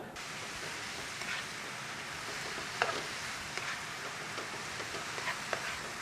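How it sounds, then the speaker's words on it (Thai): Mushrooms sautéing in butter and rice bran oil in a hot pan give a steady, soft hiss of sizzling with occasional faint ticks and pops, continuous and low in level. "พอร้อนดีเราก็ใส่เห็ดลงไปผัดครับ"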